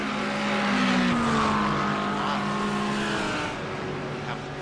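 Lamborghini and McLaren race cars in a video game, engines droning loudly with shifting pitch sweeps as they accelerate and pass, a continuous close roar that eases slightly toward the end.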